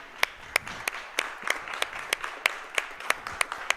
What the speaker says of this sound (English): let's give the Purdue University students a big round of applause for a great year